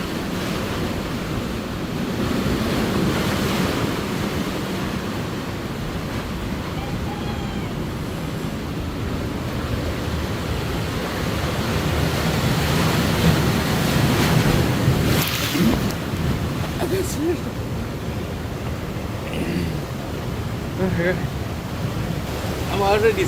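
Ocean surf crashes and washes against a rock formation with a hole through it at Thompsons Bay Beach, Ballito, a continuous roar mixed with wind buffeting the microphone and occasional louder splashes.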